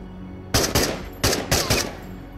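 Gunfire in the video game Into The Radius, five sharp, loud shots in two quick pairs and a single, fired at an uneven rhythm with short gaps between them.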